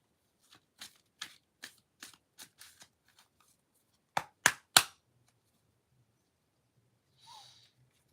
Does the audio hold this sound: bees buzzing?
no